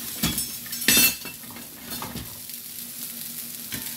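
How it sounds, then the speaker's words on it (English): Green peppers and onions sauté in a hot pan, a steady sizzle broken by a few sharp clinks and scrapes of a utensil stirring against the metal, close and fairly quiet. "Start sauteing them around. Green peppers first because they take the longest."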